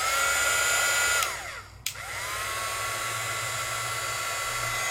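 A two-speed embossing heat tool blows steadily with a hair-dryer-like whine, briefly dropping as it is switched from one speed to the other, then resumes a loud, constant rush of air.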